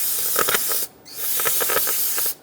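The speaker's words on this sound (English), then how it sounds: "Spray down the rag." Two loud, close hissing sprays from an aerosol can of parts cleaner onto a rag, each lasting about a second, separated by a short pause.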